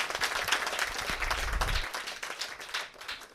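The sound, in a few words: audience applause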